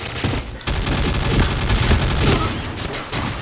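Rapid automatic gunfire from a gun in Point Blank, shots following one another in a dense, loud, sustained burst with one brief break near the start, close and dominating the scene.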